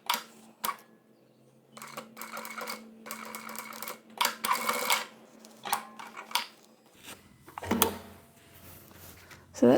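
An industrial walking foot sewing machine, Model 1903SX, sews through thick layers of upholstery fabric in short, uneven bursts of clattering stitching separated by pauses, with someone talking over it.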